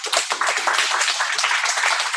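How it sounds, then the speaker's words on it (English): A meetup audience claps for a speaker at a Python programming talk, giving a short, dense burst of applause that stays fairly loud and even throughout. "give him a round of applause"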